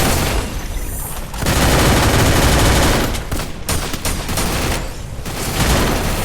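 Dense bursts of automatic gunfire in a shooting video game, loud and close, coming in long sustained volleys separated by brief lulls, with no talk.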